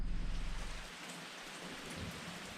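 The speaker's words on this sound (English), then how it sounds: "It's pretty much been raining like this all day." Steady, loud rain falls all day near a rural retreat in the Whittleton Arch area, a dense continuous hiss with a low rumble fading out early, no voices.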